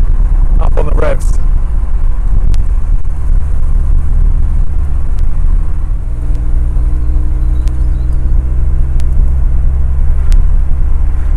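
A Lotus Excel sports car, a 2+2 with a Lotus engine, rumbles steadily at close range, with a brief rise early on and a low, even drone for the rest.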